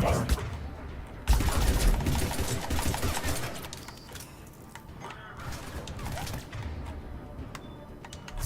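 Dense gunfire in the video game Mass Effect 3 crackles in sustained bursts with heavy impacts, forming a loud, continuous barrage with a sudden jump in intensity after the first second.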